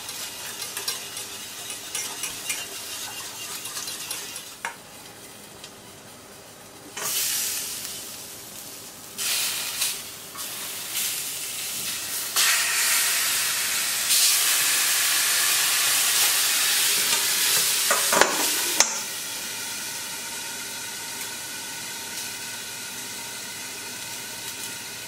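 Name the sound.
pastis cream sauce for grilled lobster reducing in a pan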